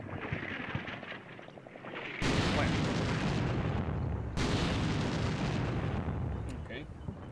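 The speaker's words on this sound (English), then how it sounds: "we are definitely starting to drop some ordnance" Heavy artillery booms in a military video game, two big blasts that each roll into a long rumbling roar, loud and close, after a stretch of quieter combat noise.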